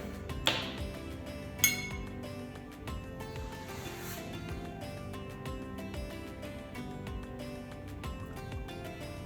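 A utensil stirs yogurt, water and olive oil in a bowl, making steady rhythmic scraping and clinking against the sides, with two sharper knocks near the start and no speech.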